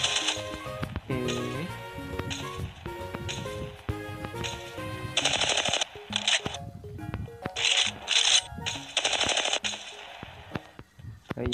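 Rapid bursts of gunfire from an Apex Legends match crackle in quick volleys over layered game music and effects, loud and close, with sharp clustered shots in the second half.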